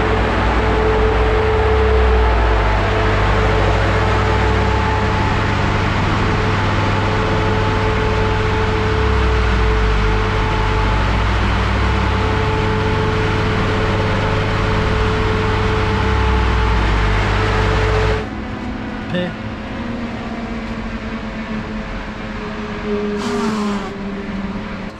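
A carbureted flat-four car engine runs loud and steady for most of the stretch, held at revs with a constant droning hum, then drops back to a quieter idle near the end.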